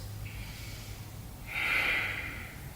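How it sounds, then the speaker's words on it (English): Slow breathing in and out through the nose during a hip-opening yoga routine, a soft airy inhale followed by a louder, longer nasal exhale over a steady low hum. "start to breathe in through your nose and out through your nose"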